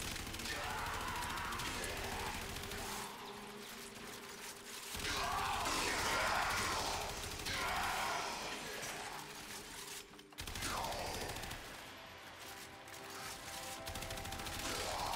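AX-52 assault rifle fire in the video game Warframe, a dense, sustained stream of rapid automatic shots and impact crashes that runs loud for the full stretch with only a brief dip near the middle.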